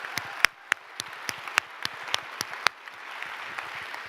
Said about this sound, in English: Let's give a round of applause to all the teams.